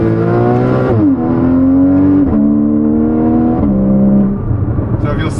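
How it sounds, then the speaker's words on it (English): A Porsche engine revs near and loud, its droning tone stepping abruptly between pitches as it shifts quickly through the gears, several quick jumps in a row. "just pay attention to how quick it actually shifts through these gears right now"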